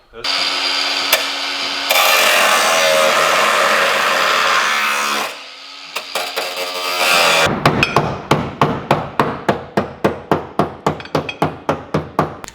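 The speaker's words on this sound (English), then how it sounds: "Tried to get it started with the hammer" Loud, steady metallic hammer blows on car rear-end parts ring out in a fast even rhythm after a stretch of whirring machine noise.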